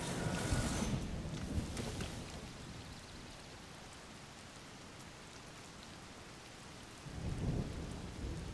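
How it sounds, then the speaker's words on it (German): Thunderstorm with steady rain in The Legend of Zelda: Tears of the Kingdom, a continuous wash of rainfall with rumbling thunder swelling at the start and again near the end, heard alone without talk. "es sollte gleich das Gewitter vorbei sein"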